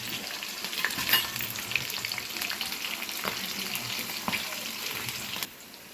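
Curry leaves and green and dried red chillies crackle and sizzle in hot oil, a dense spattering hiss with soft stirring scrapes, ending abruptly.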